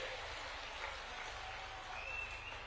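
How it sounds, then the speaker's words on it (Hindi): A political rally crowd in Madhya Pradesh applauds to welcome the Chief Minister, a faint, distant wash of steady clapping with no distinct individual claps, heard alone without talk. "जोरदार तालियों से हमारे मुख्यमंत्री जी का अभिनंदन करिए।"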